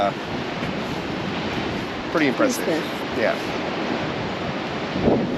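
Ocean surf washing steadily along a beach where surfers ride the waves, a broad continuous roar mixed with wind noise, with a person speaking briefly over it.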